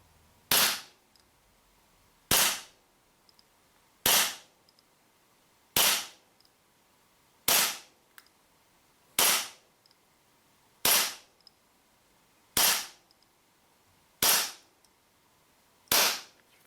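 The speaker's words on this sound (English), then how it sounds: "This is the Glock 19 Gen 5, and you'll see what the FPS readout is right now." A tan WE Glock 19 Gen 5 gas airsoft pistol fires ten evenly spaced single shots over a chronograph, each a sharp, close crack with a quick decay.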